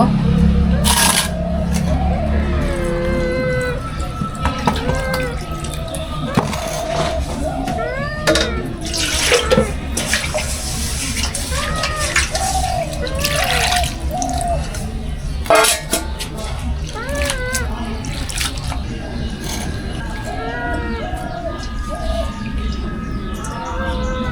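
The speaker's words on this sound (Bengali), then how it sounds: "এবার আমি ভালো করে ধুয়ে পরিষ্কার করে নিব" Cut taro and vegetables being rinsed by hand in water for a rural winter dish, with steady splashing and trickling close by throughout and speech mixed in over the water.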